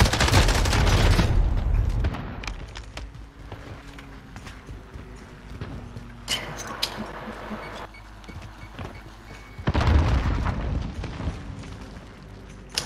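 Loud shotgun blasts in Call of Duty gameplay, with heavy booming bursts at the start and again near ten seconds and rumbling game noise between, with no talk.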